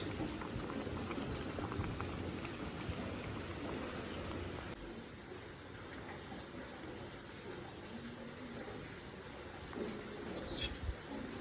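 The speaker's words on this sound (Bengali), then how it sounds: "ডালটা এদিকে ফুটছে" Dal bubbles steadily in a pot, a dense continuous boil of popping and hissing that is close and fairly quiet, with a brief louder bubble near the end.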